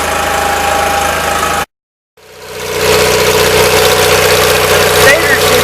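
A 1977 Gravely 817 tractor engine with a charging fault idles loud and close with a steady rumbling chug, cutting out briefly to silence before restarting and settling back into its even idle.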